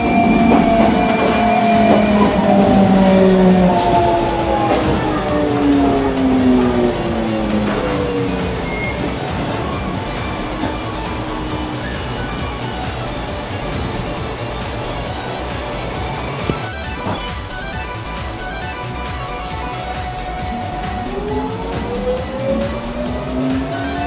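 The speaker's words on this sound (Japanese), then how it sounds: "平岡を発車していきます。" Limited express Inaji train pulling out of Hiraoka station on the Iida Line, heard from aboard: a steady rolling rumble with long rising and falling wheel and motor whines and a few sharp squeals, continuous and fairly loud with no talking.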